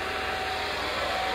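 A handheld hair dryer runs pointed up inside a shirt, giving a steady, close, unbroken whoosh of blowing air with a faint motor whine that holds evenly throughout.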